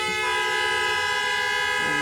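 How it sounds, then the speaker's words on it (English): A car horn honks in one long continuous blast on a city street, loud and steady, with traffic noise beneath and no talking. "Keep honking, he ain't coming out."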